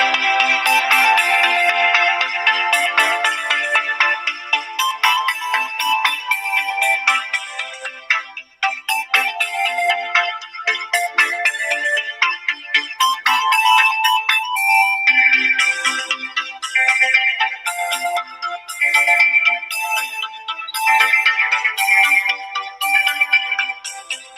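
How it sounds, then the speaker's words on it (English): Electronic music track built from a synth lead weaving around guitar and pad layers, playing continuously and loud with bright, plucky stabs and no voices. "you'll see how the lead sort of flows around the guitar and the pads"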